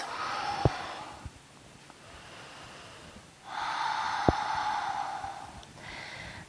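Slow, deep breathing during a beginner yoga flow for stress relief, two long audible inhale-exhale swells with a couple of short nasal snorts, close and fairly soft with no talk.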